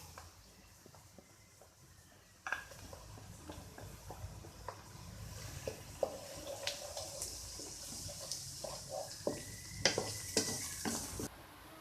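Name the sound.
onion, garlic and ginger paste frying and being stirred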